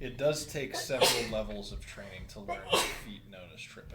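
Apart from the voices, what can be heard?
sneeze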